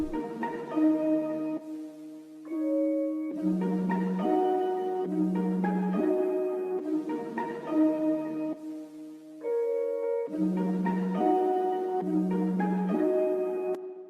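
Slow, pitched-up instrumental chords in a half-time groove, repeating in blocks with a reverb tail and brief gaps between phrases.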